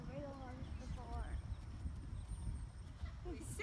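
A horse walking, its hooves clip-clopping at a slow, steady pace at moderate distance, with people talking over it throughout.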